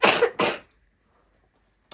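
A child coughs twice quickly, close by, followed by silence and a faint start of a third cough near the end.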